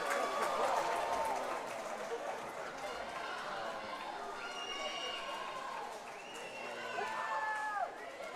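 Crowd noise at a girls' Big-12 Conference swim meet, with a steady wash of spectators cheering and shouting throughout and a few whistle-like calls rising near the end.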